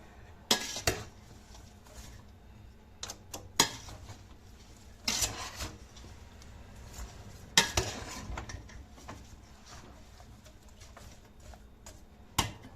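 Utensil clinks and scrapes against a pot as homemade tomato and kapya pepper sauce is stirred, a few sharp metallic knocks spaced across a quiet background with soft rubbing between them.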